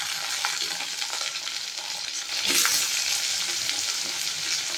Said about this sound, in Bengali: আলু আর ঝিঙেটাকেও একে একে দিয়ে পেঁয়াজের সাথে আগে ভেজে নেব।